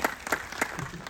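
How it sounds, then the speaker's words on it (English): A crowd at a Halloween Horror Nights fan panel claps, a brief close burst of applause with a few distinct sharp claps standing out over about one second. "Round of applause for our runners."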